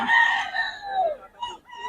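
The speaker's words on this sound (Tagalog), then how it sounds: "Ito maraming manok to" A rooster crows loudly and close by, followed by shorter crowing and clucking calls from chickens.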